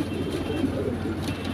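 Rampuri pigeons coo softly and continuously, a low murmuring warble close by with faint background traffic and no talk.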